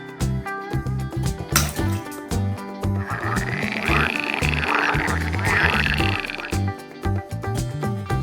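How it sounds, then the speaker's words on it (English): Frog croaking over a busy backdrop of music, rhythmic tones and layered sounds, fairly loud throughout with a dense burst in the middle. "Frog."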